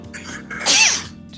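A single loud sneeze bursts out mid-clip, with a sharp breathy onset and a trailing tonal wheeze, standing alone without talk.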